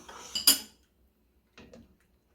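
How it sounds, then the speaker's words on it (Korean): A spoon stirs doenjang soybean paste into spinach soybean-paste soup, heard as a quick burst of metallic clinks and scraping against the pot, then a brief quieter rattle after a pause. "자, 그래서 된장이 잘 풀리게끔 이렇게 저어주세요"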